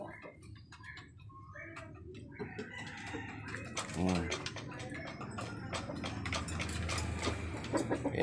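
Chickens clucking and a rooster fowl calling in a backyard coop at feeding time, with scattered calls and a brief crow-like burst in the middle, under steady ambient noise and nearby speech.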